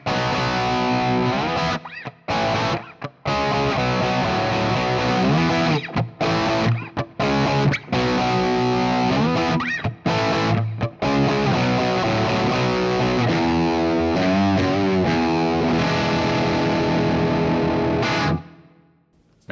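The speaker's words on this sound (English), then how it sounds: "we can hear those tones side by side with the main riff." A heavily distorted electric guitar through a Fractal amp modeler plays a chugging riff with abrupt stops and restarts, thick and saturated, ending in a ringing sustained chord.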